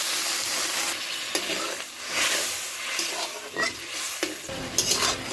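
Water added to a frying pan of spiced fish masala hisses and sizzles steadily while a utensil stirs and scrapes with several clanks, nearby with no talk.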